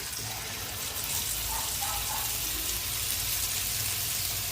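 Marinated chicken kebab pieces shallow-fry in hot oil in a frying pan, giving a loud, steady, close sizzling hiss with no pauses.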